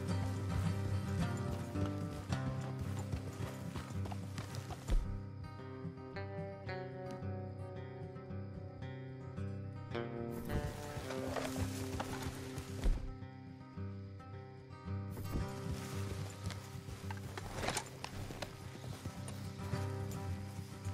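Horses walk along a trail in the video game Red Dead Redemption 2, hooves clopping in a steady rhythm under a loud musical score, with gear rustling.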